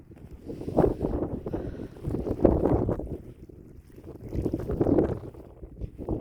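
Cold wind blows at the Jeddah seashore, buffeting the microphone in rough, rising and falling gusts, with a low rush of water in the background and no talking.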